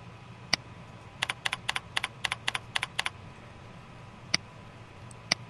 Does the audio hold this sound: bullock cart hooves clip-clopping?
no